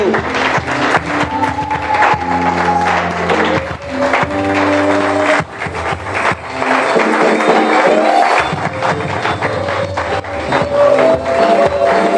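A church congregation in Paris applauds and acclaims minister Gauthier Kumbu, with loud, continuous clapping and crowd noise and sustained tones from instruments or voices running under it throughout.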